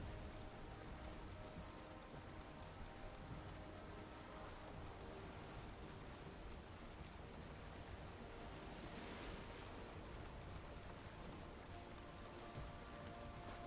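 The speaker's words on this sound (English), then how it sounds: "Sea's getting a little rough out here." Rough sea in a video game, a steady wash of surf and wind with no breaks, rain-like hiss throughout, heard fairly faint and even from start to finish.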